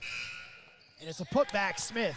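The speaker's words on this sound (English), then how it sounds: "Everybody stopped because they heard the shot clock buzzer." A shot clock buzzer sounds with a steady, fading electronic tone during a women's college basketball game between Catawba and Johnston Community College, then a commentator talks over the arena noise.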